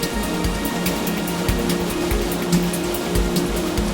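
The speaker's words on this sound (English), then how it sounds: "foaming white water shoots down the Ravadasköngäs waterfall" Foaming white water pours down the Ravadasköngäs waterfall near Lake Ravadasjärvi in Lapland, a steady broadband rush with rumbling low churn and scattered splashy bursts, continuous and fairly loud throughout.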